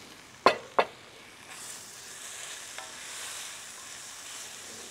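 Leftover sausage fat from salsiccia poured onto savoy cabbage frying in a pan, starting with two sharp clinks and then a steady, close sizzle that keeps going on its own.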